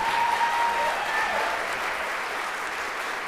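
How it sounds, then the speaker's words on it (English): A concert audience applauds high school singers of a youth choir, a steady wash of clapping from a full hall that holds evenly throughout, with no talk over it. "Could we give one more round of applause to these wonderful high schoolers?"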